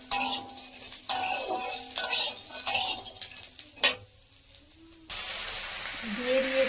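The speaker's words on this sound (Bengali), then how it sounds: "তাই একেবারেই পেঁয়াজের সাথেই ভেজে নিচ্ছি।" Lentil bori and onions fry in oil in a kadai, a spatula scraping and clinking against the pan in irregular strokes over a soft sizzle, which settles into a steady hiss toward the end.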